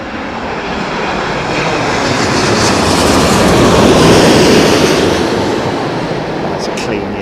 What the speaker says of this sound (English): That's a clean United 787, isn't it?